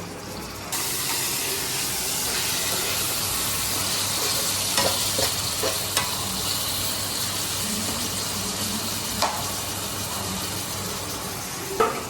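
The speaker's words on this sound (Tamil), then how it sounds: "ஸோ இந்த கேட்டில் நம்ம வந்து தக்காளி ஆட் பண்ணிக்கலாம்." Tomato stirred into frying brinjal and onion for sambar, a loud, close, continuous sizzle with steam hiss and occasional scrapes and taps of a spoon against the pan, no voices.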